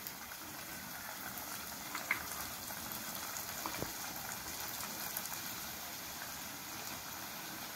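French fries frying in oil inside an electric steamer-fryer gadget, a faint, steady bubbling simmer with a soft gurgle and a single small clink, continuous and without speech.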